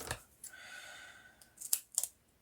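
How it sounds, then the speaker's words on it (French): Scissors snip through 3D craft foam at a crafting table, with a short sustained cut followed by a few sharp, close clicks of the blades closing, and no talking. "J'ai pas pris les bons ciseaux pour couper."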